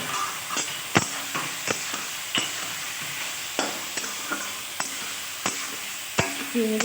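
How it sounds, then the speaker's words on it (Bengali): Prawns fry in a pan for a Bengali chingri malaikari, with a steady sizzle broken by repeated sharp scrapes and knocks of stirring, up close and with no talking. "এগুলোও দিয়ে দেবো, দিয়ে একসঙ্গে ভেজে নামিয়ে নেব"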